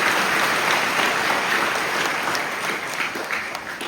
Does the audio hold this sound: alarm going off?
no